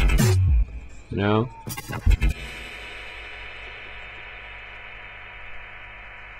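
A short spoken phrase and a few sharp sounds lead into a frozen reverb tail from Ableton Live's Freeze Verb, a flat, sustained drone that hangs quietly and unchanging to the end.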